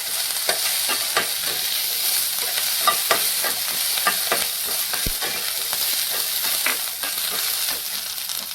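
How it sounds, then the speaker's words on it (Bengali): Sliced onions frying in a pan for a paneer roll, with a steady close sizzle and regular scraping stirs of a spatula, alone with no talk. "পেঁয়াজটা একটু নেড়ে চেড়ে নিচ্ছি।"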